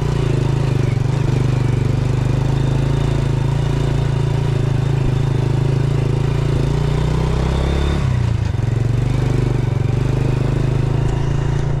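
A motorcycle ridden on a rough road between Montaban, Rizal and Antipolo, its engine droning close and loud without a break, dipping briefly in pitch as it works over uneven ground.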